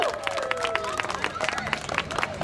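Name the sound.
crowd applause at a rent increase march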